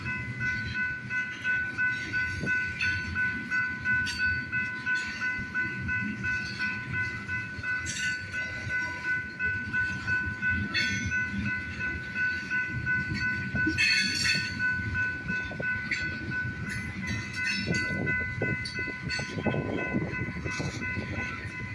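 A freight train rolls through a small South Dakota town, a steady loud rumble of wagons and rail noise filling the whole stretch, with a faint horn and a high tonal whine above, no talk.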